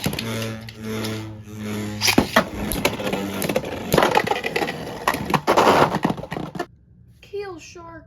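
Wizard Rod and Keel Shark Beyblades clash in a tournament battle, with rapid clattering scrapes and sharp knocks building in intensity and then stopping abruptly, while a voice talks over the start and someone speaks at the end.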